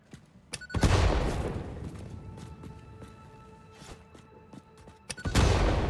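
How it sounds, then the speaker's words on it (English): Bombs blowing up in the factory-building game Satisfactory, two heavy booming blasts at the start and end, with rumbling debris and scattered sharp cracks between them, loud and close. "Let's blow more stuff up here"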